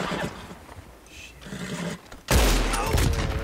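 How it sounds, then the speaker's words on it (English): Bolt-action rifle gunshot in the video game Red Dead Redemption 2, one sudden loud blast near the end that booms and rolls out over the game's ambient sound. "Headshot by a bolt rifle."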